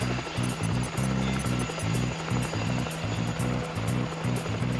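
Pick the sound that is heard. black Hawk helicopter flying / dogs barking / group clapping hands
black Hawk helicopter flying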